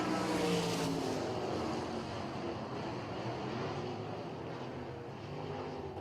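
Race cars roar around the dirt oval at Port Royal Speedway, a dense, steady engine drone from a pack of cars with a slowly fading pitch, heard at a distance without commentary.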